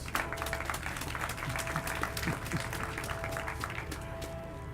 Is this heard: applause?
yes